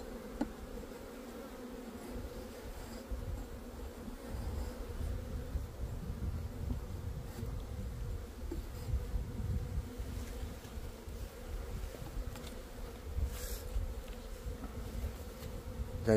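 Honeybees buzz in a steady, dense drone throughout an open beehive inspection in May, a continuous low swarm hum with no speech over it.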